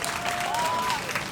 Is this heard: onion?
no